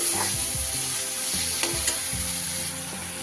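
Masala for a banana flower and coconut curry sautéing in oil with a little water, a continuous close sizzle with soft scraping and stirring sounds.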